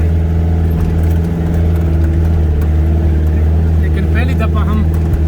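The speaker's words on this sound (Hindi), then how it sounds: "पहली दफ़ा हम गाड़ी में जा रहे हैं।" A jeep engine drones steadily and loudly as it climbs a steep, rough mountain road under construction, with a constant low hum running throughout and faint voices over it.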